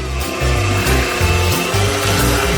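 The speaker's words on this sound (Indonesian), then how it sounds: "Kemudian masukkan ke dalam blender." A blender whirs loudly and continuously while blending kiwi with honey, its motor pitch shifting up and down in uneven pulses as the contents churn.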